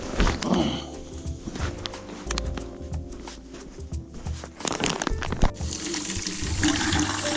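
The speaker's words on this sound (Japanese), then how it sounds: "バケツに水を汲みまして" A bucket is filled with water for mixing concrete, with gushing and splashing running water that swells and fades, mixed with scattered knocks and handling clatter.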